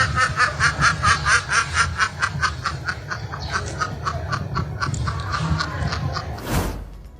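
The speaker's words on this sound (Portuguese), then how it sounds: "um pato imitando a Nair Belo" A duck laughs in a chuckling, snickering way, likened to a Brazilian actress's laugh: a rapid series of bright, rhythmic quacking cackles, loud and close, gradually trailing off, with a brief burst of rustling noise near the end.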